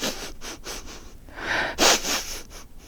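A narrator's voice imitates a dog's sniffing: a series of short breathy snuffs, then a louder, longer sniff near the end, close and alone with no other talk.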